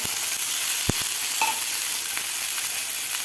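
Garlic cloves and green chillies frying in a hot pan give a steady, close hiss with a couple of brief clicks from the pan, and no voices.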